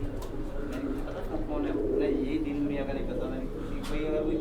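Pigeons in a breeding loft, including black males and females, coo steadily in a close, busy chorus, with people talking over them throughout.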